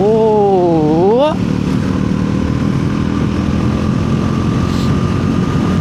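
A naked motorcycle at high speed, around 150, with a loud steady engine drone and wind rush roaring in one continuous wash; a brief warbling rising tone sounds near the start.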